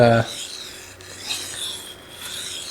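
A knife blade scrapes across a Naniwa Superstone 400 water stone in a close, gritty rasp, with one continuous stroke swelling and easing over a couple of seconds after a brief, sharper sound at the start.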